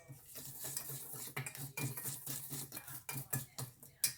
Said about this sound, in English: Then what we're gonna do, we're gonna whisk that up.